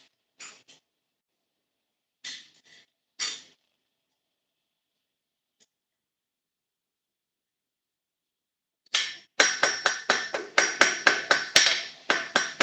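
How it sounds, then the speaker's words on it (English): A few isolated metallic taps, a long pause, then a rapid run of ringing planishing hammer blows on steel on an anvil, close and bright. "Kind of taking the hammer marks out lightly, planching blows."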